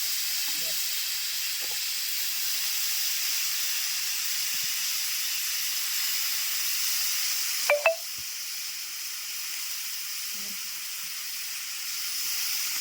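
Dried fish frying in a pan, with tomatoes being added, gives off a steady close sizzling hiss throughout, with a brief metallic clink partway through.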